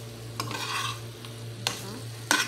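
Chicken pieces stirred in a frying pan for a home-cooked ulam, a low steady sizzle with a few scraping strokes of a utensil against the pan, close and alone.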